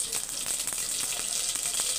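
Mustard seeds sizzle and pop in hot oil, the tempering for a sambar, a dense steady crackle with rapid scattered pops close up. There is no talking.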